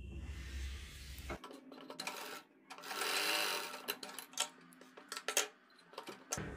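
A sewing machine runs a loose basting seam down the centre of a kurti neck, with short quiet bursts of stitching, pauses and light mechanical clicks, and no speech.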